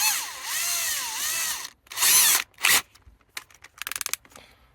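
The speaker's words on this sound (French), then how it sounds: "Allez, c'est parti. On perce." A power drill bores into a bivouac-gear trailer in sustained high-pitched whining bursts, the motor winding up and down through several pulls and short stutters, loud and close with no talking.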